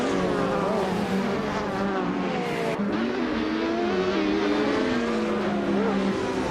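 Engine roar of Le Mans prototype race cars, including a 2017 Cadillac DPi-V.R, at the start of a video game race, a steady dense drone with shifting pitch throughout, with no breaks or voices.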